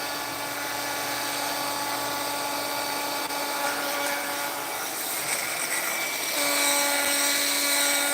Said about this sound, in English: I'm going to hit these with the heat gun real quick